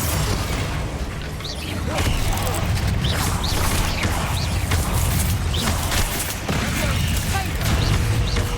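Spell blasts from the Bombarda curse in Hogwarts Legacy boom and crash in a loud, dense barrage, mixed with constant game clatter and a voice shouting over the din.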